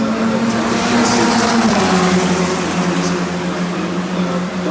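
Toyota Racing Series chassis race cars roar around a track, a loud sustained engine drone with a pitch that shifts as the cars pass, continuous throughout with no clear talk.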